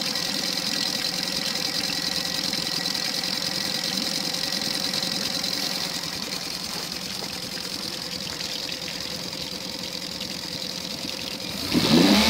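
A Tohatsu EFI outboard motor idles steadily at normal factory idle with a constant mechanical hum and whine, briefly rising at the very end.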